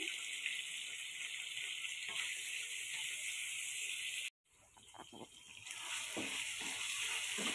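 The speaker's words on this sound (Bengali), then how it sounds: "আমি ঘি দিয়ে পনিরটা দিয়ে দিয়েছি, ভেজে নিচ্ছি" Paneer frying in ghee in a home kitchen pan, a constant bright sizzle with a brief drop-out midway before the crackling resumes, close and steady.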